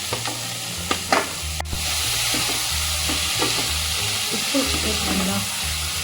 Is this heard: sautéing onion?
yes